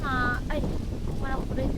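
Strong wind roars and buffets across the microphone in a continuous rumble, with people talking over it.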